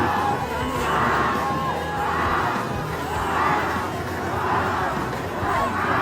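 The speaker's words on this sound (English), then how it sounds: "crowds yelling like they are at a rock concert" A large crowd yells and cheers continuously at the Bisket Jatra chariot festival, a dense roar of voices and shouts rising and falling in waves throughout.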